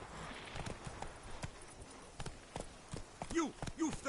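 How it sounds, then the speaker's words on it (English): A horse's hooves clip-clop at a walking pace in The Witcher 3, with repeated close, crisp hoof strikes, a couple of snorts or whinnies toward the end, and a voice speaking over them. "Whoa there, Roach."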